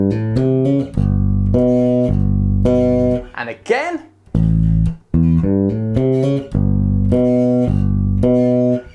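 A funky bass line opens with two bars of sustained whole notes, then shifts into short repeated plucked notes with a brief slide. It is played up close and loud, and a voice speaks briefly partway through.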